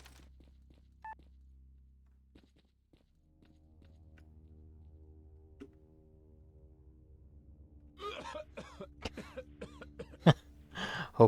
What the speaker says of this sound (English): Hopefully they don't hear all the coughing.